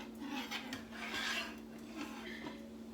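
A utensil scrapes the drippings from a pan of pork chops and rice for a casserole, a faint continuous metallic rasping with a few stronger strokes over a steady low hum.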